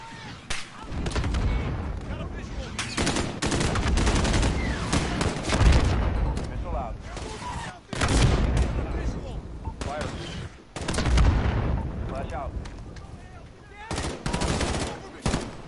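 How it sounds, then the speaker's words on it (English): Rapid bursts of automatic gunfire in a Call of Duty match, loud and repeated in several volleys with short pauses, with a voice occasionally talking over the shooting. "Who's shooting?"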